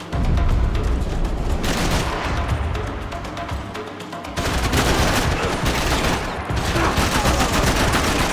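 Heavy gunfire in the video game Max Payne 3, sustained loud automatic bursts and booming shots filling the whole stretch, with a brief lull midway before the shooting resumes.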